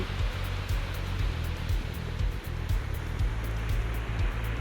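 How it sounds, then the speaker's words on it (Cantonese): Waves wash up onto the shore of a glacier lagoon beach in Iceland, a continuous loud rushing surf with deep rumbling and wind close by. No voices are heard. "等啲浪上嚟"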